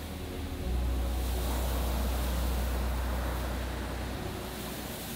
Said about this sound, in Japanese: そのさらい手でお茶っ葉をこうさらっていく音が、その自分には 海の波の音のように聞こえて